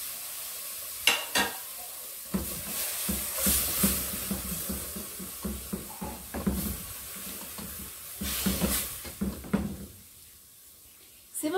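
Bell pepper frying in a pan while making chicken cream, with steady sizzling broken by repeated stirring and scraping clatter, then quieting near the end.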